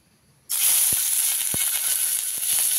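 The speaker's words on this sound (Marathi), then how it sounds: "आता तेलामध्ये टाकून घेऊया आपण।" Cut green chilies hitting hot oil for dahi mirchi, bursting into a loud, steady broadband sizzle that holds constant after a quiet start, with a few faint taps of utensils underneath.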